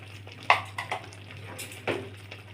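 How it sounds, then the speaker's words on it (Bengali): A few soft scrapes and clinks of a spoon stirring raw mango pieces with spices in a bowl or pan, spaced irregularly over a low steady hum. "এখন আমি টুকরোগুলির সাথে হালকাভাবে মশলাগুলি মিশিয়ে নিই"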